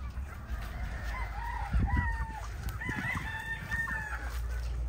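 Hens and chickens cluck steadily at close range while a rooster crows repeatedly over them, a busy poultry yard with no talking.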